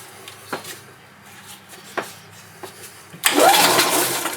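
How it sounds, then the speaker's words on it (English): The engine of a 1998 Yamaha G16 gas golf cart cranks over loudly and steadily after a few faint clicks. It does not catch. "So it's cranking over."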